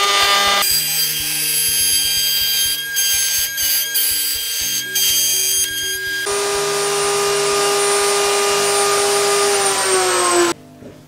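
A power tool cuts rabbets into wood for an urn, with loud high-pitched whining passes and a motor tone that steps between speeds. The whine runs in a sustained stretch before spinning down abruptly near the end.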